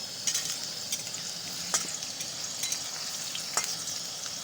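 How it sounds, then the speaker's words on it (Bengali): Steady frying sizzle of potatoes in hot oil, with a few sharp scraping clicks from a spatula stirring the pan. "তো এদিকে আলুগুলো ভাজা হচ্ছে সুন্দর করে"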